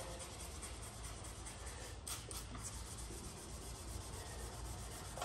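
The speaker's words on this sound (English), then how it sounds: "I'm just basically trying to keep the sandpaper as flat as possible" Sandpaper rubbed by hand across a primed 1972 Chevrolet C10 truck cab, a continuous close scratchy swishing with steady back-and-forth strokes.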